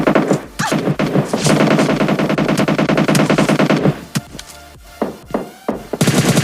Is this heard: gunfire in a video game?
yes